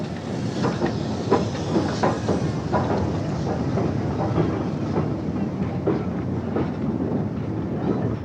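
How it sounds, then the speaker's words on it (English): A steam train runs on the single line to Mallaig in Scotland, giving a steady, close rumble with a continuous rhythmic clickety-clack of wheels over rail joints, and no voices. "villagers crowd in to see the first steam train for 21 years on the line to Mallaig"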